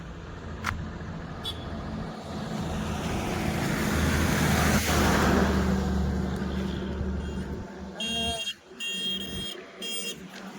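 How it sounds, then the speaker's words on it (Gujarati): A truck approaching on a mountain road in Leh, its rumble swelling to a loud pass at mid-clip and fading, then sharp horn-like tones and clatter at the end. "એક ટ્રક આવે જો"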